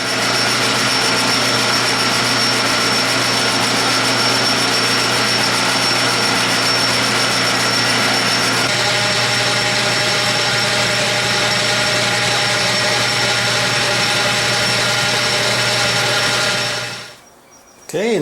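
A metal lathe turns a part down toward a 2.5-inch diameter with a loud, steady mechanical hum and whine. Its tone shifts partway through, and the machine winds down abruptly near the end.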